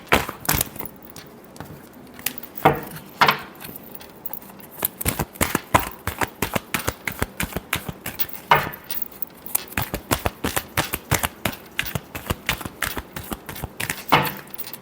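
Tarot cards being shuffled by hand in a rapid series of crisp, papery riffles and snaps, loud and close with no talking.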